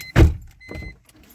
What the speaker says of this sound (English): There's the engine startup.